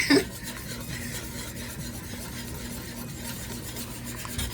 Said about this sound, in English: I decided to get my whisk out